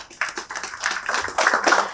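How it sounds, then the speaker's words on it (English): Brief applause for a keynote speaker at a business event in Mumbai, a patchy burst of hand clapping from a modest audience lasting about two seconds with no talk over it. "Huge round of applause for Sir here"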